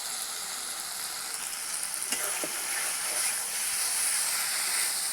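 Spice masala for a small-fish curry cooks in a pan with vegetables, giving a steady, close frying sizzle and hiss with a couple of faint stirring scrapes and no voices.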